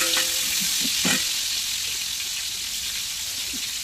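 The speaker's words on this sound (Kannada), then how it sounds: "ಈರುಳ್ಳಿ ಎಣ್ಣೆಡು ಫ್ರೈ ಆಗುತ್ತೆ" Onions frying in oil in a pan for a Mangalore-style chicken sukka, a loud steady sizzle close up with a few stirring clatters early on, no speech over it.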